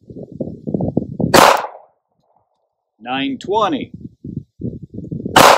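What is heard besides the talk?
9mm pistol shots firing AAC FMJ ammunition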